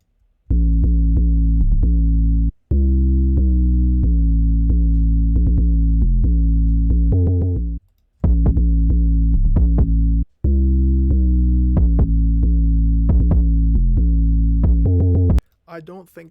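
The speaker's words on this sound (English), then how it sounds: "And finally, the 808 and the kick." Deep, booming 808 bass notes with punchy kick drum hits in a steady repeating pattern for a hard rock beat, loud and alone, with brief gaps between phrases.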